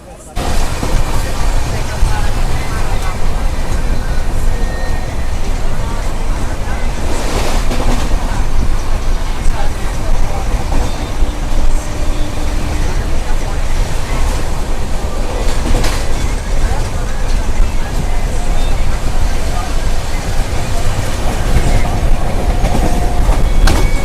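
A Falaknuma SF Express train running from Secunderabad to Howrah, heard from inside a crowded general coach: steady loud rumble and wheel clatter with faint passenger talk mixed in throughout.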